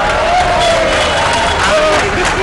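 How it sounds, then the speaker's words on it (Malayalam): Local residents in a crowd cheer and clap for fire force rescuers after a parrot is freed, a loud continuous wash of applause and excited voices with steady crowd babble throughout. "നാട്ടുകാരുടെ കയ്യടി."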